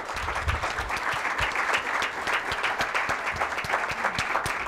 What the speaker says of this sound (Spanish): Para que un aplauso a Jessica.